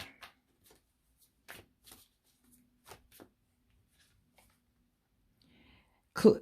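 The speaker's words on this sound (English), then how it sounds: "let me go ahead and get an oracle card out here" Oracle cards are shuffled by hand in short, soft riffling bursts separated by quiet gaps in a hushed room, ending in a louder shuffle.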